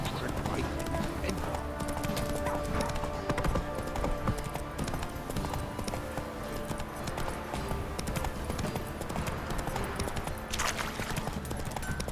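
Roach, the horse in The Witcher 3, trots with a brisk, even clip-clop of hooves, steady and close over background game music, with talk faintly mixed in.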